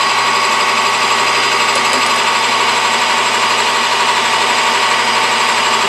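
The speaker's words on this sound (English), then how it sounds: "Real quick drill job right there." A power drill whirs loudly and continuously at close range while drilling a plastic hammer handle, a harsh, buzzing motor noise holding steady without pause.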